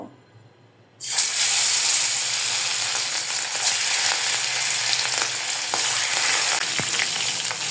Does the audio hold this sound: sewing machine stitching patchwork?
no